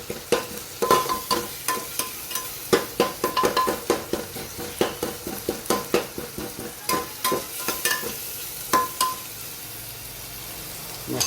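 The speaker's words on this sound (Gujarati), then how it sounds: "સરસ બધું મિક્સ કરી દઈએ." Spice masala being stirred and mixed as it fries in a pan, a spatula scraping in a steady run of sharp strokes over a soft sizzle, close and clear with no talking.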